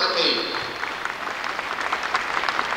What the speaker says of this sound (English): Let's give her a round of applause and as she works her way up to the stage